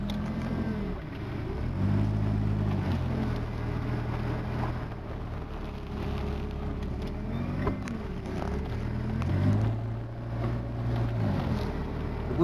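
A vehicle drives out through tall grass, its engine droning steadily up close with rising and falling revs and a continuous brushing rush of stalks and wind, no voices over it.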